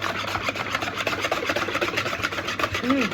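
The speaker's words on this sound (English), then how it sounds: "Anyway, let's get to whisking. We're going to whisk this now." A whisk works through grain-free apple muffin batter made with avocado oil and honey, giving a steady, close scraping and rubbing rhythm against the bowl.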